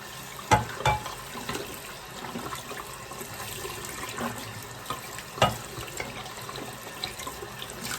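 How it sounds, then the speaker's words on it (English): A tumbler rinsed under running tap water to scrub off black gunk, a continuous rushing faucet stream broken by a few splashy knocks and rubbing sounds near the sink, with no voices. "So first I'm gonna rinse it off real good"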